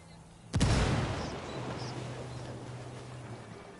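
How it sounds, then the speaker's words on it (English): A grenade explodes in the Ghost Recon video game: one sudden, loud, close blast that rolls off into a long fading rumble, leaving a low steady hum behind. "Explosión."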